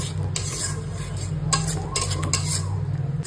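A spatula stirs and scrapes a masala of ground cumin, coriander and turmeric in a pan for a Bengali doi katla fish curry, with close, steady clinks and soft scraping over a low background hum and a faint sizzle.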